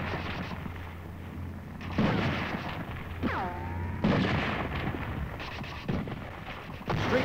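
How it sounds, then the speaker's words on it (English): Gunfire and artillery thuds as Marines and U.S. 7th Division troops advance into Seoul during the Korean War, with repeated shots and booms over steady battlefield noise, plus a whistling shell-like sweep midway. "These are Marines and U.S. 7th Division troops advancing into Seoul under enemy fire."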